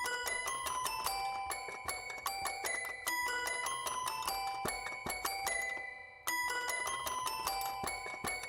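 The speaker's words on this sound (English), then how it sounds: "Nice bell intro." Bright repeating bell tones open a song, struck in a regular rhythmic pattern of layered chimes with a brief pause before the phrase restarts, playing alone at a modest level.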